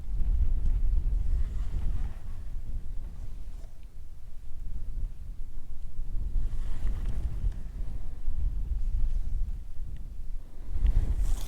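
Wind buffets the microphone on a fishing boat at Hopedale, a loud, rough, gusty rumble swelling and easing across the whole stretch with no talk.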